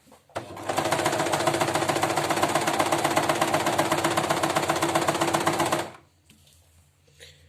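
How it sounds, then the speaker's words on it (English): An old, loud sewing machine stitching fabric for a scrunchie runs at a steady, rapid mechanical clatter for about five seconds near the microphone, then stops abruptly, leaving faint handling noise. "I won't speak because my machine's old and loud, but it's nice and slow"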